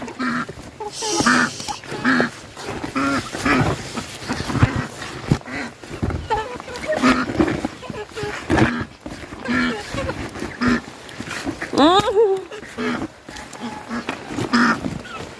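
Ducks quack and honk repeatedly nearby, a noisy flock calling in irregular bursts over a steady background.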